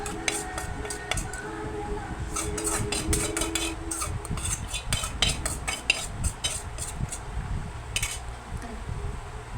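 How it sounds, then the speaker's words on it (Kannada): Puffed rice is stirred in a hot, dry pan to crisp it for spiced mandakki. A spatula scrapes and clatters against the metal in quick, uneven bursts over a soft, steady rustle, heard up close without talk. "ಅದೇ ಪಾತ್ರೆ ಬಿಸಿ ಇರುವಾಗಲೇ ಮಂಡಕ್ಕಿನ ಇದಕ್ಕೆ ಹಾಕಿ ಸ್ವಲ್ಪ ಗರಿ ಗರಿಯಾಗಿ ಮಾಡ್ತಾ ಇದ್ದೀನಿ"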